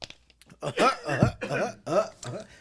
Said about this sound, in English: Oh, hold on. I got a cough.